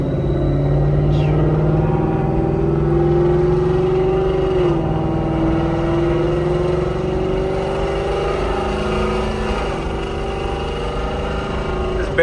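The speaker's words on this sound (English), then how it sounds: "It's barely 3K RPM and it sounds like that." Whipple-supercharged Ford Mustang pulling hard in third gear, a loud, continuous engine roar climbing steadily in pitch, heard from inside the car with voices mixed in.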